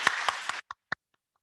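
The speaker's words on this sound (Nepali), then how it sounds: "ताली बजाएर उहाँलाई हामी स्वागत गर्नेछौँ।" A church congregation at a Saturday sermon claps to welcome a newcomer: a few sharp, close hand claps in a quick rhythm, stopping abruptly, followed by two isolated claps and then quiet.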